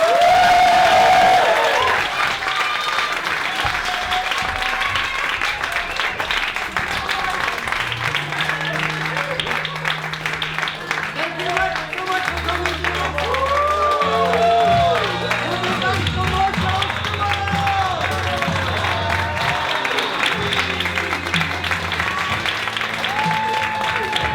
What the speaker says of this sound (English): And everyone who thinks he's a worthy winner, you can clap.